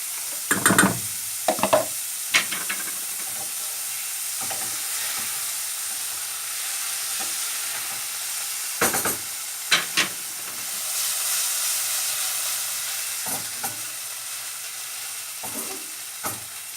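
A spoon stirs yogurt soup with meatballs in a hot pot, giving a steady sizzling hiss broken by occasional scraping clinks against the pot.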